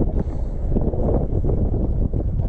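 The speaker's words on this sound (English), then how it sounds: "Goodness gracious, it's windy." Strong gusting wind buffeting the microphone while kayak fishing on open water, a continuous rough roar with no voices.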